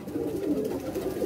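Red-eyed flying pigeons coo softly in a short, low, murmuring call, fairly faint and close, with no voices.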